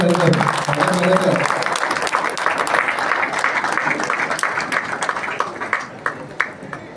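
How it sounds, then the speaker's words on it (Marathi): Audience clapping fills the space as steady applause at a Sai Baba palkhi procession group meeting, starting under a brief spoken voice and continuing loudly to the end. "सर्वांनी जोरदार टाळ्या वाजवून"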